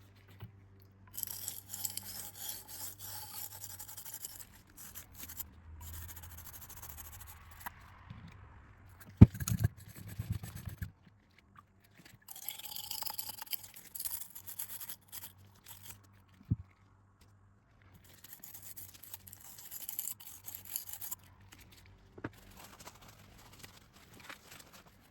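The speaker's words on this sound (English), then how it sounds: "Here I'm cleaning the threads, trying to remove the glue to my best abilities." Brush scrubbing glue out of the threads of a WW2 Pak 36 shell, heard as faint, intermittent bursts of rough bristle scraping separated by quiet pauses.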